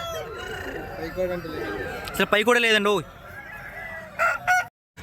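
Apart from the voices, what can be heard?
rooster at a fighting-cock market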